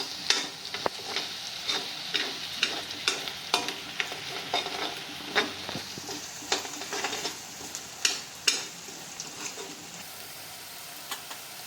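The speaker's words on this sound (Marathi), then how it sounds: "आता आपला कांदा भाजून होत आलाय." Onions fry in a pan for a Konkani-style vegetable dish, a constant sizzle broken by frequent scraping and tapping of a spoon stirring at an uneven rhythm, with no talking.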